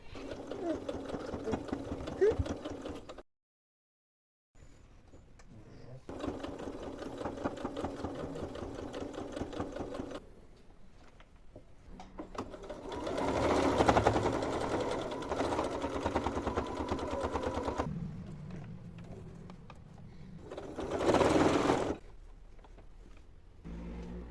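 A sewing machine stitches a shortened trouser hem along the piping seam, running in long steady bursts with a rapid mechanical whir, stopping briefly and restarting, close and clear.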